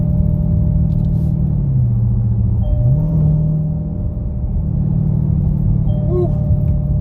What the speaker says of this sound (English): to make the exhaust sound like that.